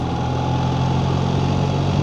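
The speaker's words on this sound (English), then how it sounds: "The engine sounds the same to me." A BMW R1300 GS Adventure motorcycle engine idles steadily and close by, a continuous low mechanical hum with a faint twangy edge and no talking over it.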